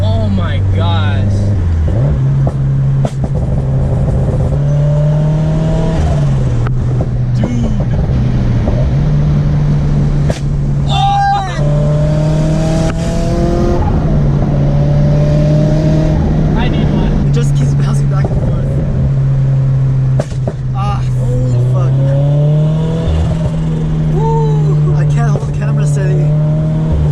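Several modified Subaru FRS sports cars with loud aftermarket exhaust rev and run through the gears on back roads, a steady droning engine note rising and dropping with shifts, close and loud throughout, while people talk excitedly over it.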